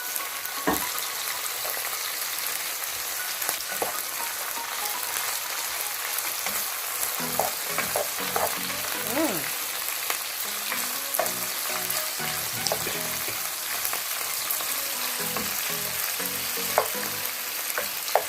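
Shrimp and dried fish fry in a pan, with a continuous sizzle and scattered pops as the pieces are stirred and shifted, close and steady throughout.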